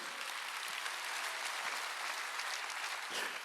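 A church congregation at a Wednesday worship service claps together in steady, dense applause that fills the room evenly, moderately distant and continuous throughout.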